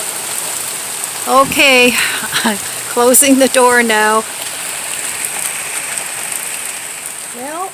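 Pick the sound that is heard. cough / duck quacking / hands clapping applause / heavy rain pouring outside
heavy rain pouring outside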